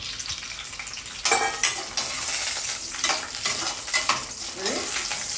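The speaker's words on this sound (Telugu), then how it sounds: "ఇది బాగా ఎర్రగా అయ్యేలాగా వేయించుకుందాం ముందర." Pieces of cut, wiped-dry drumstick (moringa pods) fry in about half a cup of hot oil, a steady close sizzle broken by several sharp scraping stirs of a utensil against the pan.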